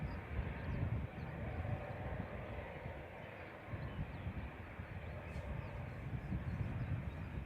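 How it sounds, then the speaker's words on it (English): Hainan Airlines Airbus A330-300 with Rolls-Royce Trent 700 engines at Manchester Airport, a faint, distant, continuous jet rumble and broadband roar holding steady throughout, with no talk. "Hainan Flight 753 from Beijing. This is B1096 and A330-300. Trent 700s on this one instead of the CF6s."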